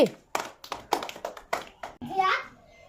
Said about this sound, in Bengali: সবাই চলে একটা হাততালি